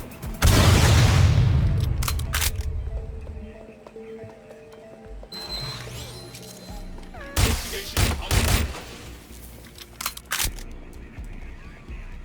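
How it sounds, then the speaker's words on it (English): A grenade blast erupts up close in Watch Dogs Legion, a heavy boom that rumbles and fades, followed by scattered bursts of gunfire and sharp clatters. "Throwing grenade!"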